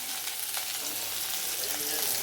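Mustard seeds are tempered in hot oil for a South Indian okra (lady's finger) stir-fry. A steady, dense sizzle and crackle sounds close up throughout, with no talking.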